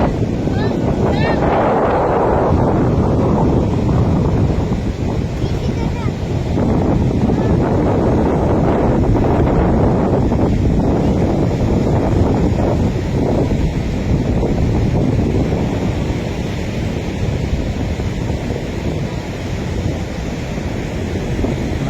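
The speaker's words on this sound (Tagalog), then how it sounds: "ampas ng alon sa dalampasigan" Strong wind and heavy surf pound a beach under an overcast, rainy sky, a continuous loud roar of crashing waves buffeted by wind on the microphone.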